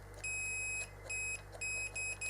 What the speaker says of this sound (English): I'm going to the output of the switch, and I've got no beep until I press the switch